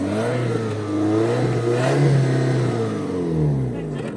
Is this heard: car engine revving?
yes